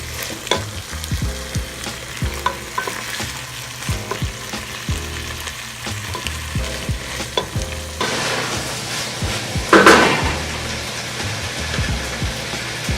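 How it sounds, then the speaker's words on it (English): Green peas are stirred into sweet mashed potatoes in a pot, with soft scraping and thudding spoon strokes over a low simmering sizzle, close and fairly quiet, ending in a brief louder clatter. "So I added the green peas in. I'll just mix it up a bit"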